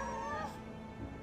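A cat meows once, faintly, in Final Fantasy 7 Remake, a short rising call heard through a steady background of game music and ambience.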